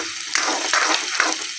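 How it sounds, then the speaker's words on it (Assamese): Onions frying in oil in a pan on a home kitchen stove, a steady close broadband sizzle with occasional stirring bursts throughout, no voices. "পিঁয়াজখিনি অলপ ব্ৰাউন কালাৰ হোৱালৈকে মই ফ্ৰাই কৰি লৈ যাম।"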